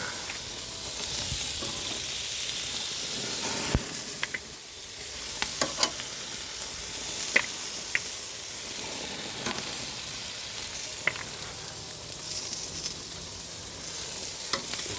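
Pork belly sizzles steadily on a Korean BBQ grill, a continuous close frying hiss with scattered sharp pops and crackles throughout, no talking.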